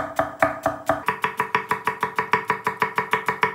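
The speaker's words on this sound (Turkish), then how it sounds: "Soğanları çok ince doğrayacağız." Rapid, steady knife chops on a cutting board as onions are finely chopped, about five per second, close and crisp with no talking.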